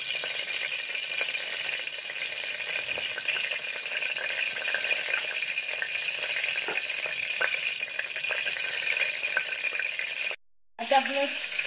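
Ghee sizzles steadily as it heats in a pressure cooker over a low flame, a loud, even hiss that cuts off abruptly near the end.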